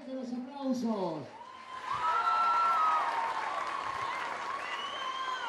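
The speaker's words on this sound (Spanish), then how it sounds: "Que se escuchen fuerte los aplausos." A concert audience at a cumbia festival applauds and cheers at a loud, sustained level, with whoops rising through the clapping. A voice is heard briefly at the start, and sustained tones ring over the crowd.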